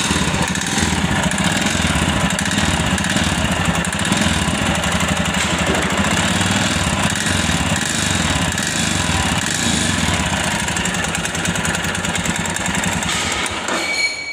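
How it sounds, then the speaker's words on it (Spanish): A Royal Enfield Himalayan 400 motorcycle engine with a strange internal noise runs at a steady idle, a dense, loud mechanical clatter with ticking and rattling throughout, close by and uninterrupted for the whole stretch. "ingresa a una Himalayan 400 por revisión de un ruido extraño en el motor. Lo prendo para que se pueda escuchar."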